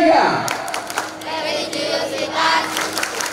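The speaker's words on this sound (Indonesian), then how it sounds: "Ya, tepuk PPK." An audience of junior high students at an SMP Negeri 3 Jatibarang school event claps out the patterned PPK clap routine, loud, rhythmic bursts of hand claps mixed with crowd shouts in a hall.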